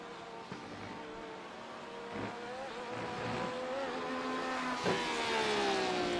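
GT3 race car in a racing video game roaring down the straightaway at Watkins Glen, a steady high engine whine with rising gear pitch, distant and moderately loud, alone without talk.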